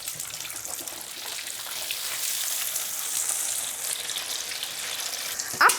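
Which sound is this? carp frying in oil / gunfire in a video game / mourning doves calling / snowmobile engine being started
carp frying in oil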